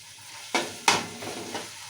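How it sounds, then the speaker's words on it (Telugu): Onion and ginger paste frying in oil for a chicken biryani, with a soft steady sizzle and a few brief scraping stirs of a spoon in the pan. "ఈ ఉల్లిగడ్డ పేస్ట్ అల్లం పేస్ట్ మంచిగా నూనెలో మగ్గాలి"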